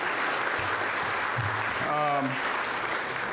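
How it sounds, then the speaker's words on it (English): A large gathering at a HOMERUNS AND HEROES event gives a sustained round of applause, with dense, continuous clapping filling the space while voices and cheers rise briefly in the middle. "So give her a round of applause."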